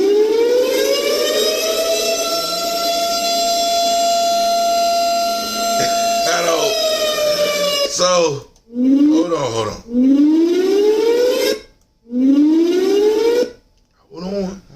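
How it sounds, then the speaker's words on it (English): A civil defense siren wails loudly nearby, holding a long steady tone before breaking into repeated rising whoops separated by brief gaps, with someone talking briefly over it. "Always, the fuckery sirens, always ready to go off."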